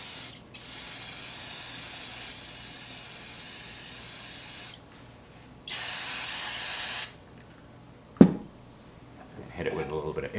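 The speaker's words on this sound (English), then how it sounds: "Hit it with a little bit of air." A nailer plunger gets blown off with compressed air during a misfire repair on a Hitachi/Metabo air nailer: a few loud hissing blasts of varying length, separated by pauses, then a clunk and some handling noise.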